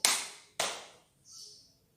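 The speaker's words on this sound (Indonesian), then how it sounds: "Kalau kau sudah siap, tepuk tangan." A small group of toddlers and preschoolers in a Sunday school class clap in unison twice, each sharp, loud clap decaying quickly, with a faint hiss and a soft click afterward.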